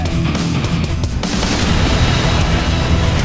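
Goliath tracked mine detonating in the Men of War: Assault Squad strategy game, a loud sustained boom rolling into dense rumbling battle noise with no voices.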